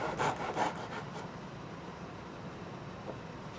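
Hand sawing through 3/8 inch wooden dowels to cut game pieces, a few quick rasping strokes up front that fade into a low steady hiss with no talk.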